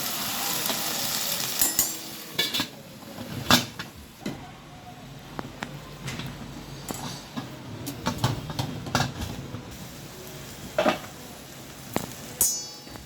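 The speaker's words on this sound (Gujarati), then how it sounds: "અમે પાછા ફરીથી આપણે એના 5 મિનિટ ધીમા ગેસ ઉપર પાકવા દઈશું તો ભીંડામાં થોડો ચીકાશ છે ને એ પણ બળી જાય" Okra cooks in a pan over a low gas flame, giving a soft, steady sizzle with occasional sharp clinks and scrapes.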